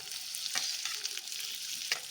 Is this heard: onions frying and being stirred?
yes